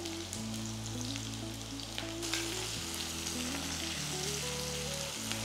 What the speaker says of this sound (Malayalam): ലൈറ്റ് ബ്രൗൺ കളറാകുന്ന വരെ സോട്ട് ചെയ്യുക.